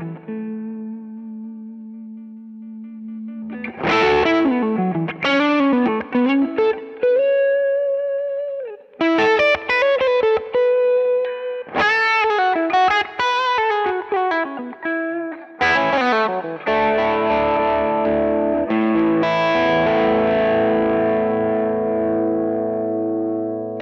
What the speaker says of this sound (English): can do those sort of lower gain clipped tones